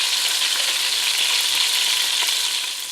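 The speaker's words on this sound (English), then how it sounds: "We're starting to get a nice sear on this now." Lamb sears in a hot pan over medium-high heat for a French lamb casserole, giving a loud, steady broadband sizzle that runs unbroken for the whole stretch, close and alone with no voices.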